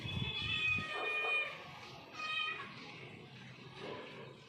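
A little white kitten meows close by in a few drawn-out, high cries, with a quiet voice talking faintly in the background.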